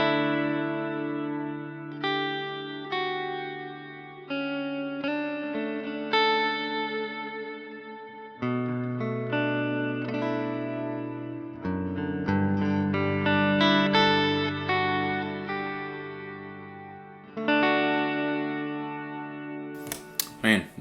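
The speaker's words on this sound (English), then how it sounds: "Let's bring in some of this crazy modulation." Electric guitar through a Line 6 HX Stomp plays a slow sequence of ringing chords and notes with a warbling, wavering modulation effect and reverb tails, fairly quiet and unaccompanied.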